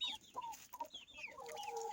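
Turkish Shamo chickens cluck and chirp in a series of short, close calls with a steady background of birds, no talking.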